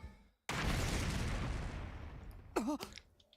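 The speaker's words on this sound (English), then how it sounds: "an explosion suddenly echoed from the room" A sudden explosion in the video game Hundred Line Academy, a loud broadband blast after brief silence that rumbles and decays over about two seconds, followed by a short rising synthetic whoosh or sound effect near the end.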